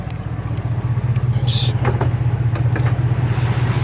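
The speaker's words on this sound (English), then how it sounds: "it still sounds like it's misfiring" A car fitted with an LS4 engine idling rough and misfiring, a steady low rumble with an uneven pulsing beat, close and continuous throughout.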